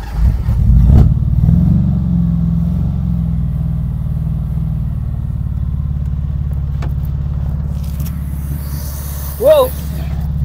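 Engine of a 1974 Honda Civic, revived after 14 years parked, idling on its own with a loud, close, steady rumble and a short rev-like swell near the end.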